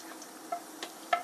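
Garlic stir-fried in a tilted frying pan gives off a faint, soft sizzle, with a few light scrapes and ticks as it is stirred.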